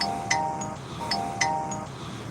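A mobile phone rings with a repeating electronic chime, bright tones recurring in a regular pattern over a low background murmur, during a police standoff with a hostage situation in Mt. Olive, North Carolina.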